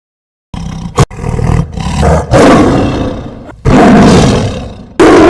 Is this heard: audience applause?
no